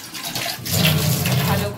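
Water pours into a cup to soak green tea, a short rushing, bubbling fill that swells after a moment, with a voice faintly audible underneath.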